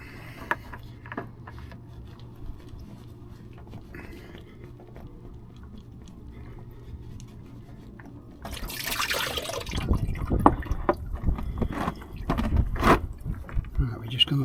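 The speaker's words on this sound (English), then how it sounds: "we're just going to let that drip for a bit." Antifreeze coolant drips and splashes from the drained radiator of a Mercedes 410D van into a container, a quiet trickle at first and then a louder, irregular splattering run near the end.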